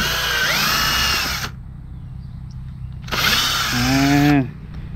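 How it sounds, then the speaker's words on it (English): A power drill fitted with an auger bores planting holes in garden soil, giving two loud whining bursts of about a second and a half each, separated by a short quiet pause. "I have a drill and I have an auger on it. So you just place it in,"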